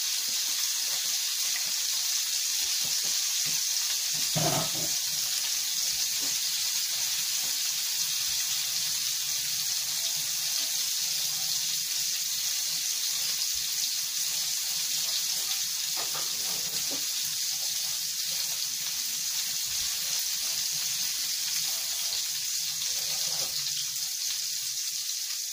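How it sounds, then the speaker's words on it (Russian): Tap water running steadily into a sink as hands are rinsed, a continuous bright hiss for the whole stretch with a few faint splashes and knocks. "Сейчас я руки вымою"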